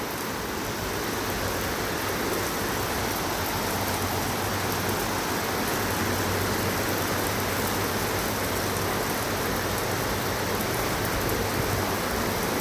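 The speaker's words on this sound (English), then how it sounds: "There's some heavy rain." Heavy rain falls steadily during a nighttime thunderstorm in southeastern Pennsylvania, a dense, continuous hiss with a low rumbling undertone, holding even and unbroken throughout with no voices.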